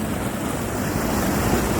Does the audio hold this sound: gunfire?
no